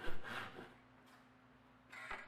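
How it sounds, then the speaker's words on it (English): Hand saw cutting a small tenon on the end of a long wooden upright, with a few rough rasping strokes at the start, a quieter stretch, and another stroke near the end, all close up. "It's simply easier to cut these by hand than to try to use the power tools."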